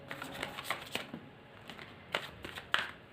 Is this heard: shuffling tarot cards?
yes